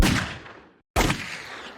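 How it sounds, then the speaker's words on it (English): Two gunshot effects ring out in the chorus of a song, each a sharp blast that fades away, separated by a brief moment of total silence. "In the chorus, we have these 2 gunshot sounds."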